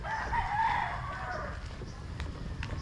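A rooster crows in a seaside village in Moalboal, Cebu, a single drawn-out call at moderate distance, faint against low ambient background.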